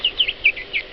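Small chickens give a quick run of high, thin peeping chirps, four or five short calls within a second, close and clear above a quiet background with no talk.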